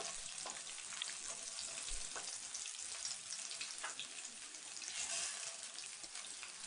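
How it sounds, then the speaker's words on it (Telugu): Garlic cloves frying in hot oil, a dense, steady sizzle and crackle heard close up, moderately quiet, with no talking. "ఆయిల్ హీట్ అయిన తర్వాత వెల్లుల్లి రెమ్మలను వేసుకోవాలి."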